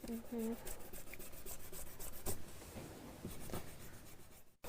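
Top paper layer being scraped and rubbed off a paper picture by hand, a faint, steady dry rasping and scratching with a brief faint voice near the start.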